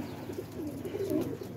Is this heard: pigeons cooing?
yes